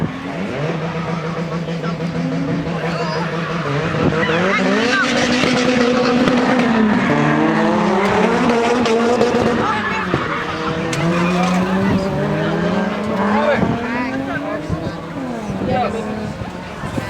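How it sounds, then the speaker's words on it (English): Performance cars drifting on the drift pad at Crail drag strip during a car show, with engines roaring, revving and tyres squealing continuously and loudly throughout, while the engine pitch rises and falls. "I'm gonna get a few shots of the drifting"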